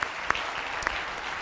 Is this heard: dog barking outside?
no